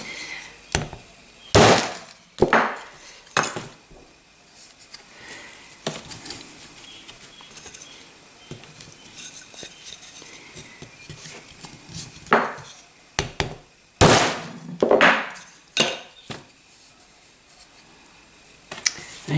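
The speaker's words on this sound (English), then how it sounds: "Here is a hammer, and I will try to make it with a hammer." A hammer taps metal while a camera lens part is straightened, giving irregular sharp clinking strikes, some in quick pairs or bursts, close up with quiet gaps between.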